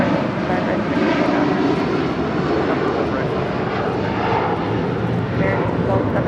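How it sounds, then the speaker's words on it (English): A United Airlines Boeing 757-300 departs LAX with a steady, broad engine roar that holds loud throughout, while voices talk over it. "This is United Airlines Flight 1635 departing to Washington Dulles on a 757-300."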